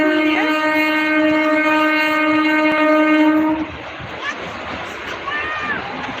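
An Azimganj–Kasimbazar MEMU train crossing the Nasipur bridge sounds a loud, sustained horn for about three and a half seconds, then gives way to a rolling rumble and clatter as it passes, with voices nearby.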